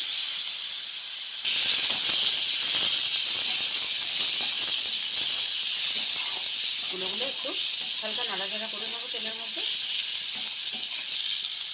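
Cut radish pieces hit hot oil tempered with mustard seeds and green chilli, a loud steady sizzle that flares up suddenly and keeps hissing, with faint crackles and spatters underneath in a village kitchen.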